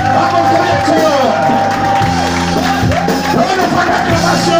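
A large crowd at a French-language religious gathering cheers and shouts in acclamation, loud and continuous, with voices rising and falling together under a steady roar.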